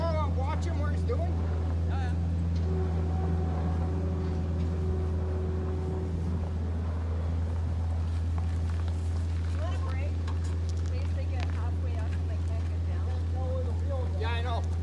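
A skid steer's engine drones steadily at a low, constant pitch while lifting a 1928 Ford Model A, and people talk intermittently over the running machine.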